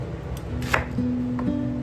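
A kitchen knife cuts an onion into large chunks, giving a few sharp, separate chops on a board against a quiet background hum.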